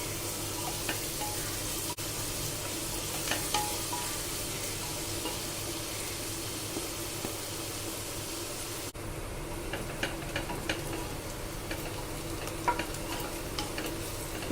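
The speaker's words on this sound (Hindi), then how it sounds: "प्याज को लाइट ब्राउन फ्राई करेंगे।" Chopped onions and whole cumin seeds fry steadily in mustard oil, giving a continuous, even sizzle with faint scattered clicks of stirring throughout and no talking.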